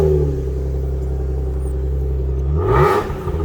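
An Alfa Romeo GTV V6 engine idles with a steady low rumble, then revs up sharply near the end in a rising roar that swells louder before dropping back.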